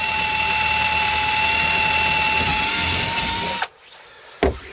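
Steady, loud whine of a power drill boring through wood for several seconds, then it cuts out abruptly, followed by a brief knock.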